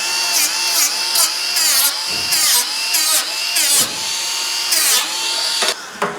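A power tool whines loudly and close while deburring sharp metal edges on a van, running in steady bursts with brief dips in speed and short pauses between passes.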